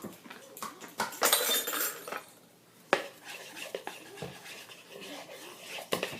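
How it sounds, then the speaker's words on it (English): A spoon stirring vanilla into a sweet mixture in a bowl, with irregular clinks and scrapes against the bowl, close and fairly quiet. "You add the vanilla to the mix, and then you stir it up."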